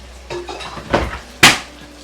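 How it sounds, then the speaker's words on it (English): A sudden hard thump as a book falls onto a surface in a kitchen, loud and close, after a few softer clatters of kitchenware during frying. "that book falls down every time"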